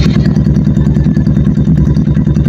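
A Kawasaki NS200 motorcycle engine idles close by after a carburetor cleaning, a loud, steady, even throb with a regular pulsing rhythm and no talk over it.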